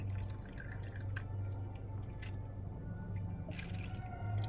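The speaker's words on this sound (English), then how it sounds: "Let's see the pour." Liquid poured into a cup at a vegan food spot in Manhattan, a steady close trickle and drip running the whole time over a low hum of background noise, with no talking.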